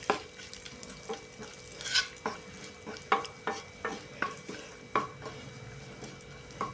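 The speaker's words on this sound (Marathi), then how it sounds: "तूप गरम झाले, त्यामध्ये आता हे ड्रायफ्रूट्सचे काप टाकूया. हे आता थोडा वेळ परतून घेऊया." Dry fruit slices frying in hot ghee for sabudana kheer, a soft continuous sizzle under a regular series of clicking, scraping stirs against the pan, close but fairly quiet, no talking.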